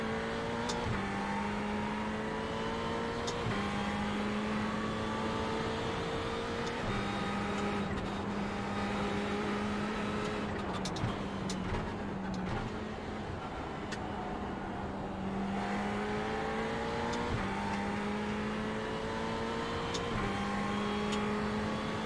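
Race car engine in the iRacing simulator, a steady high drone rising and falling through gear changes and throttle lifts, continuous and upfront with no talk.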